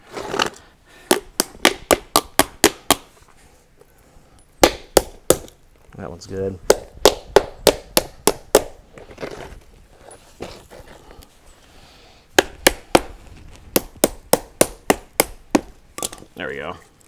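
A hammer pounds carriage bolts out of an arcade cabinet in quick bursts of sharp, close strikes, with brief pauses and a few spoken words between the runs.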